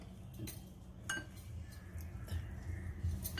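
A carrot, apple and nut salad is tossed in a bowl, making scattered light clinks and taps of utensil against the dish over a soft background.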